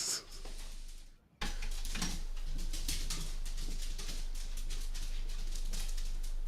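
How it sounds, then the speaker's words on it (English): Several dogs running across a floor indoors, a rapid rumbling patter of many paws and scrabbling steps, close and fairly loud under a steady low hum, after a brief drop to near silence. "That stampede sound you just heard was our dogs."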